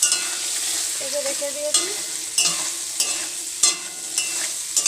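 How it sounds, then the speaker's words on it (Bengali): Potato pieces fry in oil in a pan, a steady sizzle broken by several sharp scrapes of stirring, close by, while someone speaks briefly. "আলুটা ভাজা হয়ে গেছে, এবার এই ঝিঙেগুলো দিয়ে দেবো।"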